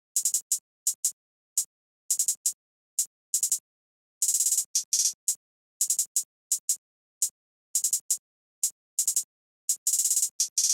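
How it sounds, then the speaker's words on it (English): Trap beat hi-hat pattern: crisp, bright electronic ticks in short rhythmic bursts and rapid rolls, separated by silent gaps and playing on their own. "the hi-hat pattern is sounding like this."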